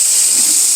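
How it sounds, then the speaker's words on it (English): Roasted vegetables for ratatouille sizzle hot in a pan straight from the oven, a loud, steady, close hiss that fills the short moment without any talk over it. "Sizzling hot. That sounds like some fajitas cooking."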